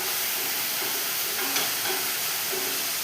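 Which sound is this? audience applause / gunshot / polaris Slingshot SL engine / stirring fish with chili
stirring fish with chili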